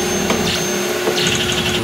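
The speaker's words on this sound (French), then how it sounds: "Ici on a l'imprimante 3D qui nous a permis de réaliser une carte digitale qui est en train d'être imprimée justement." 3D printer at work printing a digital circuit board inside a Mars mission simulation base, giving a steady, loud mechanical whir with faint higher stepping tones moving above it, no talk.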